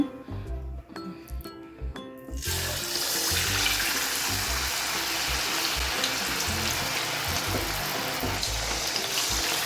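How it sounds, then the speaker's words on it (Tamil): Street-style Bangalore chicken drumstick pakoda deep-frying in oil over a medium flame. After a few seconds of quieter kitchen sounds, a loud, steady bubbling sizzle starts and continues without a break. "ஒரு மீடியம் ஃப்ளேமில் தான் இது வந்து நல்லா ஃப்ரை ஆகணும்"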